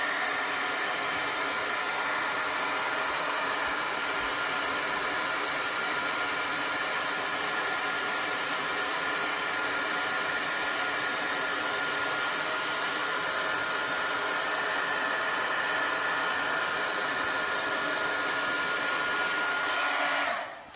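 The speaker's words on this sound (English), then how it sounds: "I'm going to heat set him a little bit with my heat gun here" A heat gun blows continuously while heat-setting a chalk transfer, a loud, even airy roar that holds steady for about twenty seconds before cutting off, with no talk.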